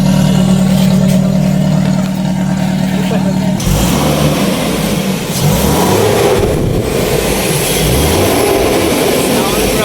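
A Toyota Hiace Super GL van engine runs loud and close, with a steady low drone that shifts into a rougher, surging roar partway through, while a voice talks over it.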